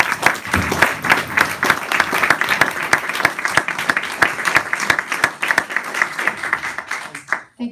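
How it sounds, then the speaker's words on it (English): Applause for both candidates at the close of a state representative debate: a full round of clapping from the audience with sharp individual claps audible in the mix, tapering off abruptly at the end. "Can we give both our candidates a round of applause, please?"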